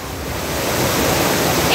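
Rushing floodwater pouring through a street in Junagadh after a cloudburst, a steady loud roaring wash that builds slightly, with a brief high sound at the very end.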